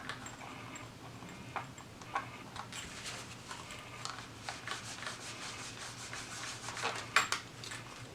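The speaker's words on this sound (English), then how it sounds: "get some of my ink, kind of massage it into the lines" Drypoint printing ink rubbed and massaged into the incised lines of a plastic plate, a steady close scratchy rubbing with small ticking strokes throughout.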